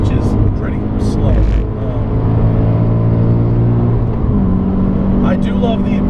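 A Scion FR-S (GT86) fitted with TRD accessories is driven at full throttle on a track, its engine droning loud and steady close by with rising harmonics, while a voice talks over it.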